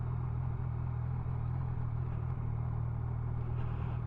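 A car idles and rolls slowly while turning around in a pub car park near the River Humber, its low steady engine rumble close and unbroken, with no one talking.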